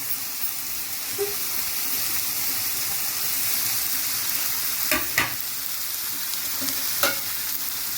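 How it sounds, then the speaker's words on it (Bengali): Chicken coated with turmeric powder sizzles steadily in a pan over medium-low heat, a continuous close frying hiss with a few brief clatters of tongs stirring near the end; no voices. "এবার একটা সাঁড়াশি দিয়ে আমি ধরলাম, ধরে খুব ভালো করে নেড়ে দেবো"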